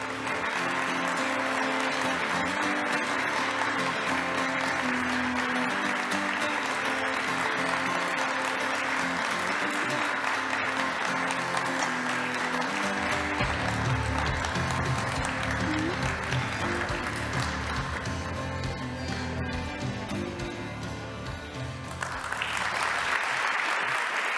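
Sustained, loud audience applause fills a university academic anniversary ceremony hall, honoring a long-serving dance group leader; the dense clapping runs steadily throughout with a brief shift in texture near the end.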